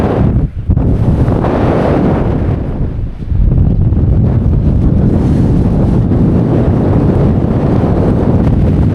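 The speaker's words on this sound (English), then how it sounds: "I've tried to get out of the wind just off the top of Crag Fell" Strong wind on the summit of Crag Fell roars as loud, continuous buffeting against the microphone, with a brief lull near the start and another around three seconds, and no talk.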